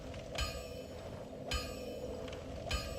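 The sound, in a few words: bell ringing in video game Dark Souls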